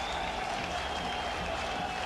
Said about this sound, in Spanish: El aplauso de agradecimiento de los jugadores, recíproco a la hinchada